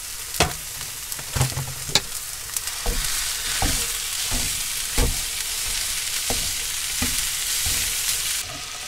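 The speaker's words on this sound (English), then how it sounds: "It's cooking slowly because I'm only on my simmer hob now" Food sizzles gently in a pan on a low-powered simmer hob inside a motorhome, a steady soft frying hiss punctuated by repeated close clinks and scrapes of stirring.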